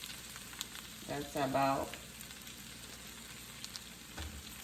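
Pre-cooked rice fries with turmeric in a pan, a soft, steady sizzle heard close up, with a brief spoken remark over it partway through.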